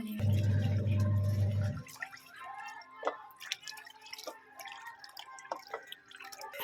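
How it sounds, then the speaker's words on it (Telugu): Jujube berries being washed in water, a brief loud gush of running water at the start followed by close, scattered drips, splashes and small sloshes as the fruit is handled. "ఒకటికి రెండు సార్లు అయితే కడుక్కోవాలి నీట్గా"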